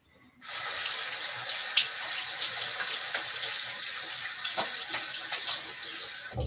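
Bathroom sink tap opened after a wet shave and left running, a sudden onset into a steady, loud rush of water that continues unbroken for about six seconds before cutting off abruptly.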